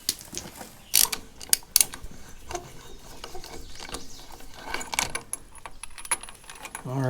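A cover and spark plugs come off a 1936 Caterpillar Twenty-Two engine, with close metallic clinks, clanks and ratchet clicks in irregular bursts, and occasional faint voice sounds between them.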